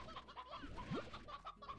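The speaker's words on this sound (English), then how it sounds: "More hens." Hens clucking in short, repeated calls, fairly close and steady, with a busy farmyard background and no talk.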